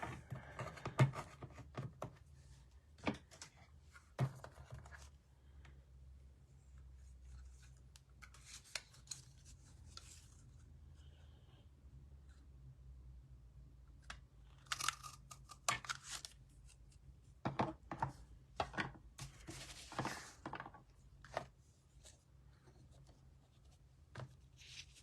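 Scissors trim card paper at a quiet crafting table, with irregular bursts of snipping and crisp paper rustles separated by near-silent pauses.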